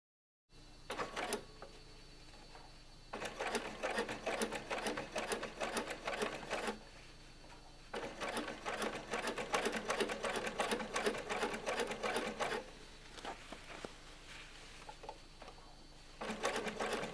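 A sewing machine topstitches the fly of a pair of jeans in several bursts of rapid, loud stitching, broken by short pauses with quieter handling in between.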